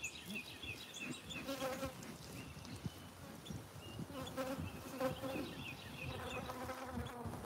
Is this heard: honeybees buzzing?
yes